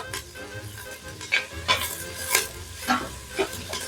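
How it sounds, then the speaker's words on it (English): Vegetables being sautéed for zucchini basil soup, with a soft frying sizzle under repeated stirring scrapes and clinks of a utensil against the pan, close and fairly quiet. "I'm just going to go ahead and saute these until they're translucent"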